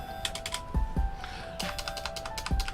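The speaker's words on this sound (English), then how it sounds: "there's no double typing of the number 0 anymore" Keys on a repaired Corsair K70 RGB mechanical keyboard clack in quick, crisp bursts, a close sequence of distinct strokes with short pauses between groups.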